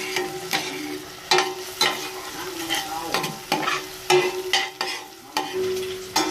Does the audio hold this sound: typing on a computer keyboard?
no